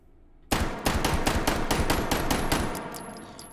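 Rapid string of Dardick revolver shots fitted with a compensator in the VR game H3VR, about a dozen sharp evenly spaced bangs after a brief quiet start, close and loud.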